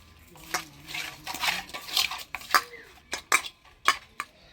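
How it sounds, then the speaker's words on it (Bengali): Magur catfish pieces are mixed by hand with turmeric and salt in a metal bowl, giving wet squelches and irregular clinks and scrapes against the dish, close and clear with no voices. "মাছটা হলুদ লবণ দিয়ে মাখা নিলাম"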